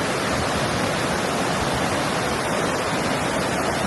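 A waterfall in Sierra Madre, Aurora, roars as a steady, dense wash of rushing water, close and loud, filling the whole moment with no voices.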